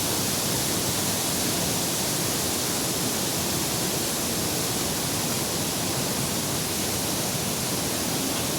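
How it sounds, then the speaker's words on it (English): Rapids and a waterfall at Sol Duck Falls make a dense, steady rushing roar, close and loud, continuous throughout with no voices. "you got some good rapids here right up above the falls as well"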